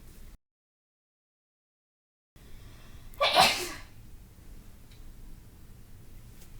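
A single loud sneeze bursts out after a brief gap of silence, standing clearly above faint room noise.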